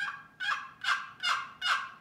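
A hand-operated turkey call imitates a hen's yelp: five sharp, evenly spaced raspy notes in quick succession, close and clear with no talking.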